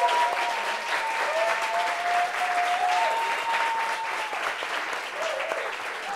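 Steady, moderately loud applause from a studio audience greets a guest arriving on a talk show set, with faint voices and cheers mixed into the clapping throughout.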